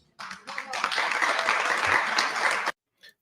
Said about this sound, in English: the polite applause there, the golf claps are hilarious